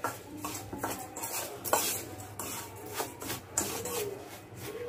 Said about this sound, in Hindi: अब ये ऑयल हम इसी सूजी में डाल देंगे ऑयल बहुत ही बढ़िया गर्म लेना है और इसे चम्मच से मिक्स कर देते हैं